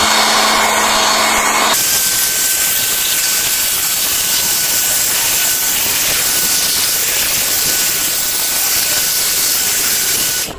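A loud, steady whooshing roar of a cordless portable air blower drying a motorcycle runs continuously, close by, after a brief shift in tone at the start.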